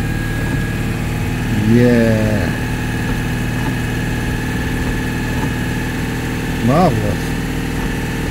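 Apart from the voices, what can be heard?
Citroën 2CV engine revving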